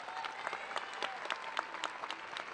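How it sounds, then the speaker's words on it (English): Faint applause from a school promotion ceremony audience for recognized students, scattered sharp claps over a soft, distant hall. "So let's give them one more round of applause."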